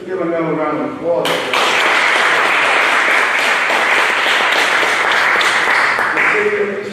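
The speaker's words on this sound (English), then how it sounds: "Let's give another round of applause." Sustained audience applause for a Veterans Day award recipient in East Orange, loud and steady clapping that swells in after a brief musical or vocal lead-in and fades at the end.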